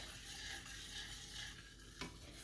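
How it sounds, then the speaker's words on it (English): Milk being stirred into a simmering green bean casserole sauce in a pot, a steady soft sizzle with scraping stir strokes and one sharper clink near the end, close and continuous with no talking. "Let's stir this in."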